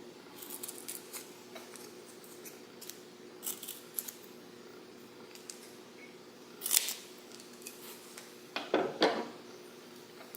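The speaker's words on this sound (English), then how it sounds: "I'm also going to take some of my empty adhesive and snip a couple of these off" Scissors snipping pieces off a strip of empty adhesive for a paper-craft shadowbox, a few faint separate cuts scattered over a quiet background, the last snips a little louder.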